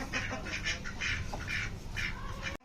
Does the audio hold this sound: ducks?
yes